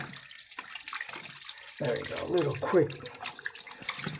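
A tap runs into a sink as a paintbrush is rinsed with soap and water, a steady close wash of flowing water with brief splashy surges while a person talks over it.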